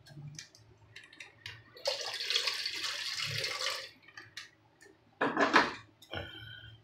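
Water is poured into chicken bistek in a pan, a steady two-second rush of liquid between light kitchen clatter and brief sizzling bursts, close and moderately loud.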